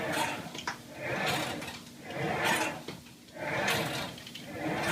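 A Total Trainer home gym machine worked through flies with no weight loaded, giving rhythmic, repeating swells of sliding, rubbing mechanical noise about once a second, with no talking.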